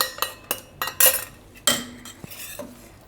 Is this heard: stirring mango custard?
yes